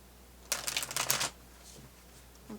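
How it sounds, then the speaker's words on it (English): A single tarot card slides from the deck with a soft, brief papery riffle and flutter, close and quiet in an otherwise still room. "So let's pull one more card."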